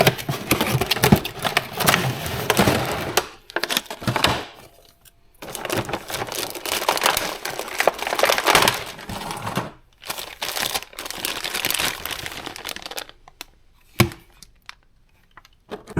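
Unboxing an LDRC 1:18 rear-wheel-drive RC drift car, a Honda NSX body, with dense crinkly packaging rustle and handling noise in close bursts, broken by a few short quiet gaps and a sharp clack near the end.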